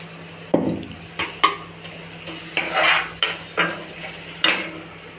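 A spoon stirs cluster bean paste curry in a pan, scraping and clinking against the metal in about eight distinct strokes with a soft sizzle underneath, close and clear.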